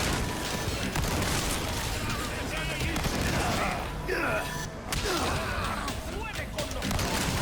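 Shotgun fire in the Resident Evil 4 Remake on Professional difficulty, comparing the W-870, Skull Shaker and Riot Gun: dense, continuous game combat noise with repeated heavy blasts and crashes, under a voice talking.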